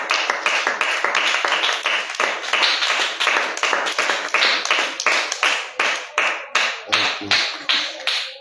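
A church congregation claps in steady, rapid rhythm to acclaim the Lord, the loud, dense claps continuing throughout with little pause.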